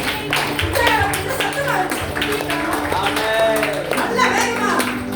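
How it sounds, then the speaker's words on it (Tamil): A church congregation claps for the children at a Tamil service, with brisk, rhythmic hand claps running under a voice speaking over them. "பிள்ளைங்களுக்கு ஒரு பெரிய கைத்தட்டல கொடுங்க"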